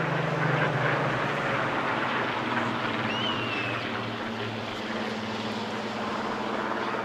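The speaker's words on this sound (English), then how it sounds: "the blend of the two aircraft engines as they flew past our microphones" Two aircraft engines drone loudly as planes pass overhead at an airshow, a steady, dense roar with a low propeller hum that eases slightly as they move away.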